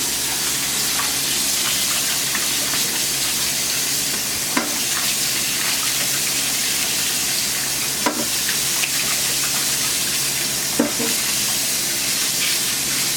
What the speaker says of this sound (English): Colander is next. Then I rinse a second time. I rinse again.